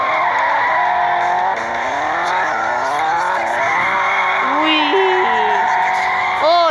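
Car drifting and skidding in the Extreme Car Driving mobile game, with engine whine and long tire squeals sweeping up and down throughout, loud and continuous while someone talks excitedly over it.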